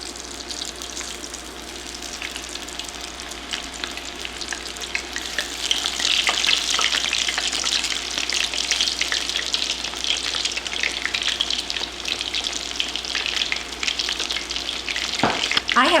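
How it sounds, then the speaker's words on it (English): Steady, loud sizzling and crackling of shrimp frying in hot oil, continuous throughout with no talking. "If it starts to sizzle right away, then you know that your oil's hot enough"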